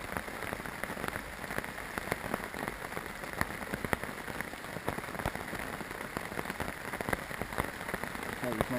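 Steady rain patters densely on a surface at a campsite, close and continuous, with countless small drops ticking throughout.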